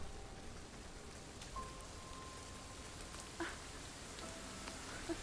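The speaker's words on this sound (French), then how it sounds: "Et la pluie tomba, mesdames et messieurs." Steady rain in the video game Jusant hisses evenly throughout, with a few faint distant tones and a soft drip-like tap near the end; no voices.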